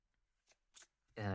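Two quick papery riffles of cards being shuffled close by, then a voice begins speaking.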